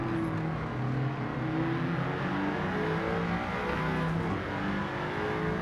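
An Audi TT engine in Gran Turismo 7 drones steadily with a loud, continuous hum and shifting tones as the car runs past, filling the whole stretch without talk.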